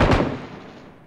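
A loud, close explosion in PUBG Mobile, a grenade blast with a sharp onset and a broad rumbling tail that fades over about a second, no voices over it.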